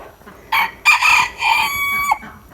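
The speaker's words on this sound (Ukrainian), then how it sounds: "Хіба ж це півень?" A rooster crows once, loud and close, a drawn-out cock-a-doodle-doo with a sharp start and a long wavering tail.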